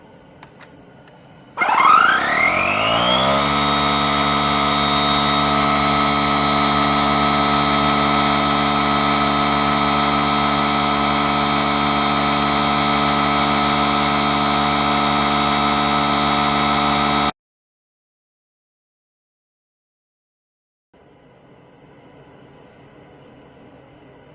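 A DeWalt cordless air compressor starts with a rising whine, then runs loud and steady with a strong tonal hum for about fifteen seconds before cutting off abruptly into near silence, followed by faint background noise.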